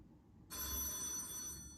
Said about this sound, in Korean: 전화 소리를 얼마나 자주 들어보셨습니까?